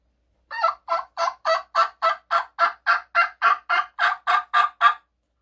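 A man imitates a turkey hen's locator call with his mouth: a run of about sixteen evenly spaced, loud, nasal yelps in steady rhythm, alone and close.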